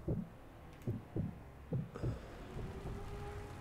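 A slow, muffled heartbeat in the sniper video game Sniper Elite V2, a steady thump-thump pulse repeating about every second, low and close, with a faint hum rising behind it toward the end.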